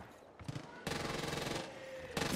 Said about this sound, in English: I shot him right in the butt.